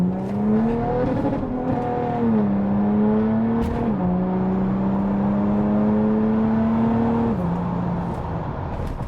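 An Audi A5 with a tuned 3.0 TDI diesel is driven hard in sport mode, its engine droning loudly as pitch climbs through stepped gear changes, heard from inside the car with steady road roar.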